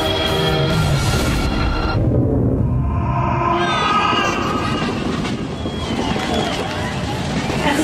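A train passing close at a level crossing in a road safety advertisement, a loud continuous roar and rattle of rail cars with metallic squeals, voices heard over it.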